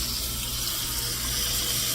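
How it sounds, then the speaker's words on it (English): Tap water runs steadily into a greasy pan at a kitchen sink, a constant hissing splash with no break. "When I go to rinse it, instead of it going down my drain,"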